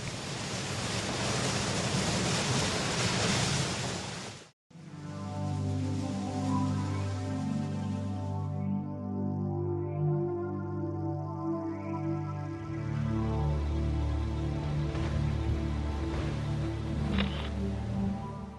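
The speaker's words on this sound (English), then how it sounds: "The water phase is followed by a noisy steam phase lasting 30 to 40 minutes." Castle Geyser in Yellowstone venting in its noisy steam phase after the water eruption, a loud continuous roaring rush like surf and wind that fills the whole span, broken by one brief gap, with no talk.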